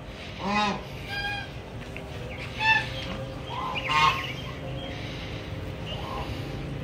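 Several ducks call in short honking bursts, a few louder squawks standing out over steady outdoor background noise, with no talk.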